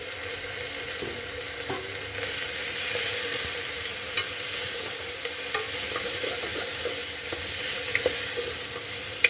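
Mixed vegetables for kootu sautéing in a pan, a continuous loud sizzle with occasional soft stirring scrapes, close and steady without any talking.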